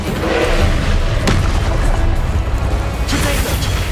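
An Incendio fire spell blast in the game Hogwarts Legacy, a loud continuous booming roar with sharp crackling hits around one and three seconds, set in a noisy battle.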